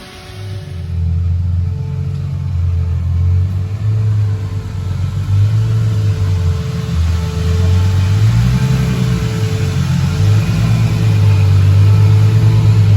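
BMW car with an S52 engine fired up and revving continuously, a loud close deep rumble with rising and falling rev swells throughout and no talking.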